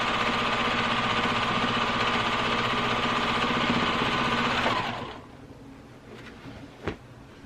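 A home sewing machine straight-line quilting in the ditch along a quilt seam runs steadily and loudly for about five seconds, then stops, leaving a faint click and a brief thump.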